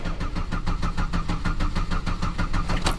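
A 2009 Buick LaCrosse with a crank-no-start fault turns over fast without firing. The starter spins in a rapid, even, pulsing churn that runs loud and unbroken throughout.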